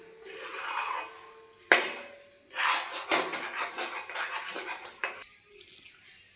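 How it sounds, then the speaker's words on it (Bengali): A spoon scrapes and stirs a thick semolina and milk dough in a kadai over low heat, making repeated close rasping strokes with pauses and a sharp knock against the pan. "দেখুন এইভাবে আমি অল্প আঁচে নাড়তেই থাকবো যতক্ষণ না শক্ত হচ্ছে সুজির ডোটা"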